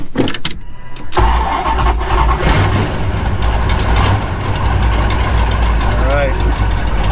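A Plymouth Cuda's engine cranks briefly, then catches and settles into a loud, steady, rumbling idle close by that carries on to the end.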